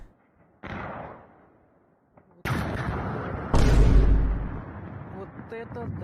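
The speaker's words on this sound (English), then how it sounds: "Explosions in the southern axis and the Crimean Peninsula." Explosions in war footage from southern Ukraine and the Crimean Peninsula, a distant boom followed by two louder blasts with heavy low rumble that lingers and decays, recorded through a phone with ambient noise after.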